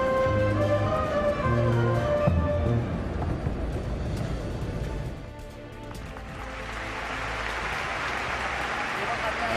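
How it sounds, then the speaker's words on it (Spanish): A crowd claps at a charity bullfighting festival inside the Palacio de Vistalegre, steady applause rising and filling the hall, with a voice talking over it throughout. "Palmas que inundan ahora el sonido ambiente en el Palacio de Vistalegre"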